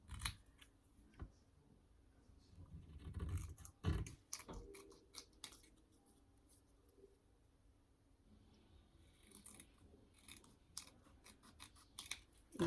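Scissors trimming paper for a scrapbook page, faint close snips and rustles in irregular bursts, with a few louder crinkling handling sounds in a quiet room.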